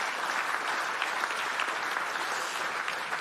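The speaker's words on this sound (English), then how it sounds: "What about a round of applause for all 4 of our finalists?" Steady applause from a sizeable crowd at an innovation awards ceremony fills the space, dense and continuous clapping at an even level throughout.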